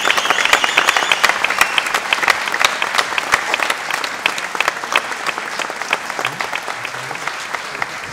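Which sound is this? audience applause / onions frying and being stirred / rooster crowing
audience applause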